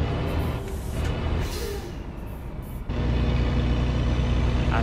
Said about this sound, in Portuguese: Muito show o som desse caminhão, galera.